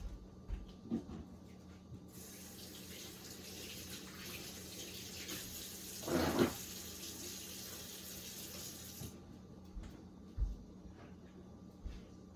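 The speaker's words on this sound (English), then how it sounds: "you want to wash your hands just a little bit. So I'm going to wash them again" Water runs steadily from a kitchen tap while hands are washed after cracking an egg during cookie baking, a continuous hiss with a brief louder splash midway and small clinks around it.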